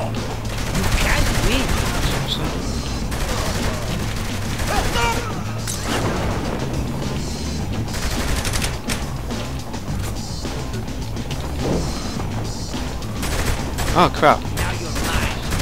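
Continuous gunfire in the video game Saints Row The Third, dense machine-gun style bursts with crashes layered into a loud, busy firefight, and a voice briefly speaking over it.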